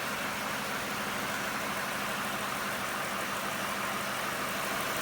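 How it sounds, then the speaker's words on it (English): A 2002 Cadillac DeVille Northstar V8 runs at a steady idle with its belt cut, a constant broadband engine rumble and whir that stays even and unbroken throughout. "This is a 2002 Cadillac DeVille with a North Star V8."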